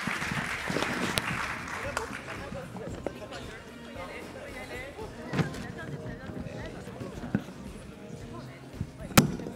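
Audience at a regional AI forum applauds the panelists after a panel discussion, clapping mixed with murmuring voices and a few sharp thumps, fairly near and moderately loud.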